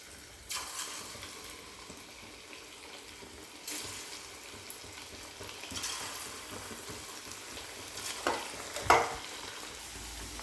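Pieces of thinly sliced chicken for dragon chicken go one by one into hot oil. Soft, steady frying sizzle with a few louder splashes and clinks, fairly quiet and close.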